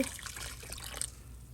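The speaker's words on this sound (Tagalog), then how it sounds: "Tapos lagyan na natin ng tubig." Water pours into a pot of chicken caldereta with tomato paste, a soft, faint, steady trickle and splash close by that fades out after about a second.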